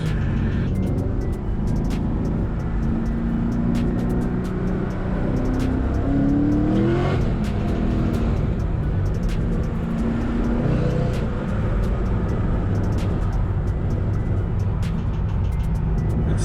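Chevrolet Corvette C6 pulling hard from about 60 mph on the road, a loud, steady engine roar with dense road and wind noise throughout, no talking.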